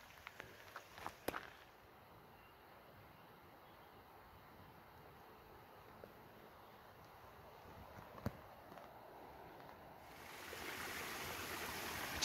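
A small waterfall and stream on a Sierra Nevada mountain trail along the Pacific Crest Trail, a steady faint broadband rush of flowing water that swells louder near the end, with a few footsteps and scuffs early on.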